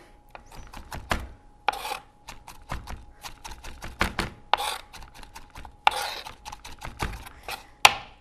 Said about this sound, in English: I'm actually going to chop these just a bit more